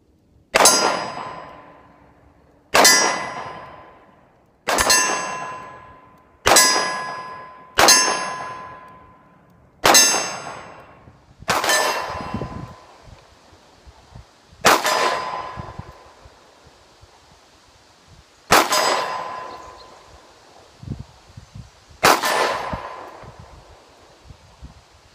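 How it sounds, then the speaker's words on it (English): Ruger SP101 .357 Magnum revolver fired at an outdoor range toward a target 150 feet away: about ten sharp, loud single shots with ringing decay, spaced a second or more apart, the later ones slower, with no talk. "5 shots from a Ruger SP101 at 150 feet."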